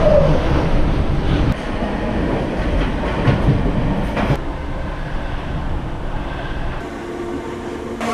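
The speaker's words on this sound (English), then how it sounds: "I'm on the train now to Clandon" A train rumbles along the rails from inside the carriage, loud and continuous with rattling and clattering that shifts over several seconds.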